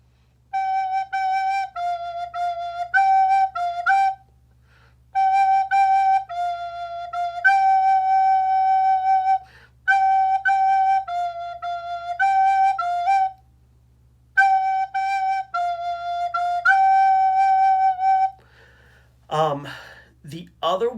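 Recorder plays a simple blues tune as clear, steady notes, phrased in four short passages with brief pauses between them, solo and close. A voice starts up right at the end.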